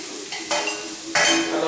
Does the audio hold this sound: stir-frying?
yes